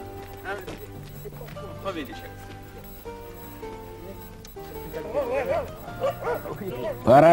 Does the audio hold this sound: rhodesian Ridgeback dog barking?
yes